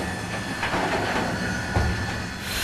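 Steady, dense rumble of a heavy freight train rolling nearby in an Australian railway yard, with faint clanks and a brief thump partway through, no voices.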